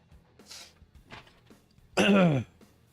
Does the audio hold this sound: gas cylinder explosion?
no